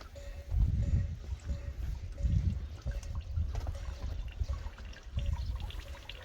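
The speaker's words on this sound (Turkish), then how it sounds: "Güneş paneliyle çalışan su motoru bu şekilde su deposuna su gitmektedir." Water pumped by a solar-powered motor runs into a 2500-litre drinking-water tank, a steady close trickle and splash over a low pulsing motor hum, with no voices.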